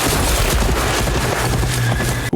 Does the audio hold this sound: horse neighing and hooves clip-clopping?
yes